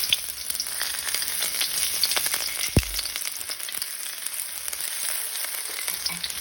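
Onions sautéing in oil in a pan for Purefoods sizzling sisig, a steady crackling sizzle with a brief thump partway through, close and continuous with no talking.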